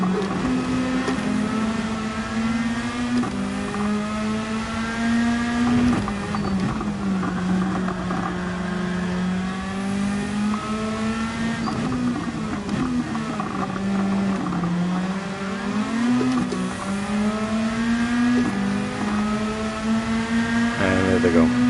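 SR3 Radical race cars at Deep Forest Raceway in a racing video game, a loud, continuous high-revving engine whine that rises and dips with gear changes and cornering, steady throughout with no talk.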